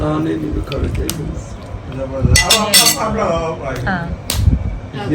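A metal spoon clinks against the pot while stirring thick Nalli biryani, bright sharp taps scattered through the clip under steady conversational talk.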